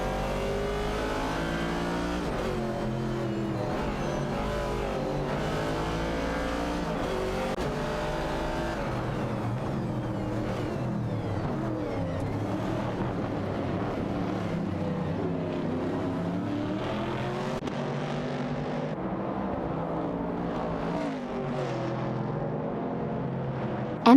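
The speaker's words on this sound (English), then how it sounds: "Bluegrass Railfin in the Chevrolet Camaro 70 is neck and neck with Niaib in the Ford Mustang Boss." Racing-game cars including a Chevrolet Camaro and a Ford Mustang Boss rev and accelerate continuously, a layered engine drone with rising and falling pitch sweeps and no voices over it.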